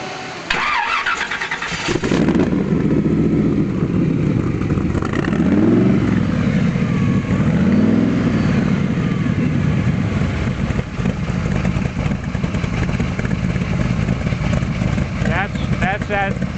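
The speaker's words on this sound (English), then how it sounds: "you can hear that lopey sound because it's got a very big high duration cam" A car engine cranks and catches, then settles into a loud, close, lumpy idle with a rhythmic lope from a big high-duration cam, someone talking over it in places.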